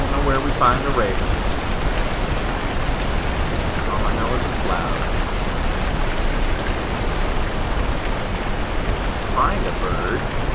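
Steady loud rushing of a waterfall in the video game Far Cry Primal, a continuous broadband roar filling the whole stretch, with faint game voice sounds mixed in.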